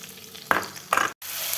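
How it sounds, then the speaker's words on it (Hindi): Ginger, garlic, green chili and coriander paste frying in hot oil for palak and sarson saag, a close soft sizzle with two short bursts of stirring and a brief dropout. "इसको हम हल्का सा ब्राउन होने तक भून लेंगे"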